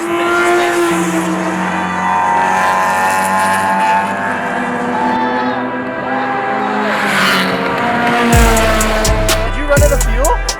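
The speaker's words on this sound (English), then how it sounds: "we have a car that's charging at us, doing like really good laps" Race car engine droning steadily as it laps the track at Calabogie Motorsports Park during a Lucky Dog endurance race, loud and continuous, with a sharper burst of engine tone and higher revving near the end.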